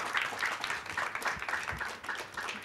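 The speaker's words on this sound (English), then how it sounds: "A big round of applause" Audience applause at a conference on Indian alcoholic beverages in global markets, welcoming the chairman of APIDA; a steady, moderately loud patter of many hands clapping throughout, with faint background murmur.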